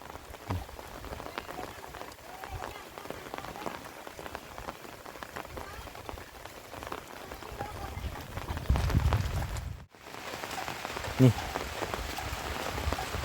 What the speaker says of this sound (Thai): เพราะว่ามันฝนตกเนาะ